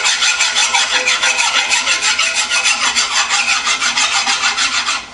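Hand file rasping across a steering gearbox part from a 1953-1962 Corvette, with rapid, even back-and-forth strokes, about four per second, close and sharp with no voices.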